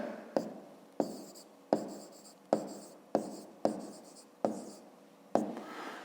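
Pen or pencil writing out a fifth-grade math exercise solution on paper, in a steady series of short, distinct scratching strokes at close range with no talking.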